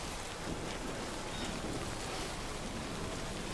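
Steady, dense hiss of rain in the video game Death Stranding 2, constant and even throughout with no voices.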